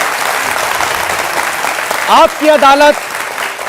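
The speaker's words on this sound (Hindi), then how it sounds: "जोरदार तालियों के साथ" Studio audience applause on a televised Hindi courtroom-style talk show, steady clapping from a large crowd beneath a voice speaking over it, with a brief musical sting near the end.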